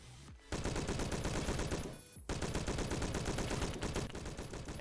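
Bursts of STG-44 automatic rifle fire in the Roblox shooter Phantom Forces: a sustained rapid stream of loud, close shots, a brief pause, then a second long burst, with no talking.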